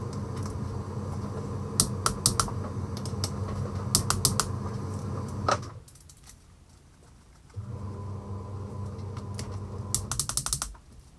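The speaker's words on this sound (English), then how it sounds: "what I'll do now quickly is just torque the oil pump into its correct position" A torque wrench clicks and ratchets while tightening the oil pump bolts on a Ducati 748 engine, with bursts of sharp clicks over a steady mechanical whir, a brief quiet gap, then another run of clicks.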